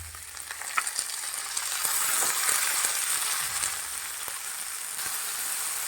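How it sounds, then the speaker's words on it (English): Chopped tomato and onion frying in a pan, a soft steady sizzle with occasional light stirring taps, close but fairly quiet. "Let this tomato cook for 2 to 3 minutes."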